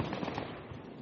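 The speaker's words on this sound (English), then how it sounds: "Five people shooting at him." Gunfire in the Project Reality war game during a defence of Muttrah: a dense, continuous rattle of rapid shots from several weapons, loud and sustained across the moment.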